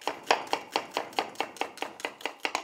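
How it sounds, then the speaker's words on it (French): A knife chops onions on a cutting board in a quick, regular rhythm of about a dozen crisp, close strokes, with no talking. "J'attrape mes oignons. Je coupe les extrémités."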